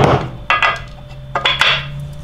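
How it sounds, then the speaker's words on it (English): A freshly drilled model propeller for a gas engine, tapped on a workbench in several sharp, close hard knocks that come in quick pairs with short pauses between them. "just tap it on your bench so when you go back on again, it's nice and flat."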